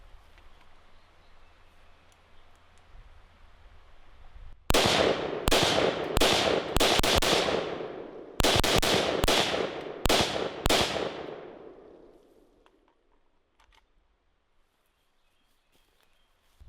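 Practice rifle shots at an outdoor shooting range, about eight loud, sharp cracks fired in two quick groups, each with a ringing echo that trails off into quiet.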